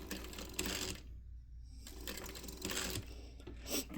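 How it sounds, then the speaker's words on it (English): A sewing machine stitches a bag seam with piping, running in short bursts as it back tacks back and forth a couple of times, close and steady with a brief pause in the middle. "So I'm just going to go ahead and back tack a couple times here."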